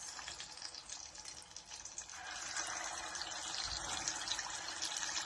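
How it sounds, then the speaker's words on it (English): A steady crackling sizzle of plantain deep frying in hot oil in a small container, growing a little louder and denser partway through. "the plantain is well marinated, so I'm just gonna start frying it"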